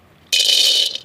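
Raw peanuts, one cup, tumble into a hot pan for Tamil puliyotharai tamarind rice, a sudden loud dry rattling rush that lasts under a second and then trails off into scattered clicks.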